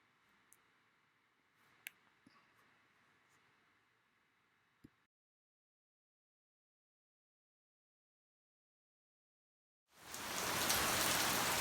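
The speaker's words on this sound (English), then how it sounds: "working in the rain. We got a nice tarp here" Steady rain pattering loudly on a tarp over a runabout boat under restoration, a dense hiss of drops that swells in after a quiet stretch with a few faint clicks.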